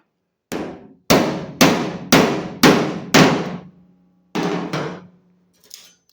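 A small hand scraper knocks soft brass brazing off the body of a 1966 Ford Mustang: six sharp metallic raps in a steady rhythm, then a pause and two more hits with a faint tap at the end, loud and close with no talking.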